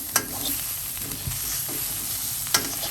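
Fried rice with salted fish sizzles steadily in a hot wok while a utensil scrapes and clanks against the metal a few times, with no voices.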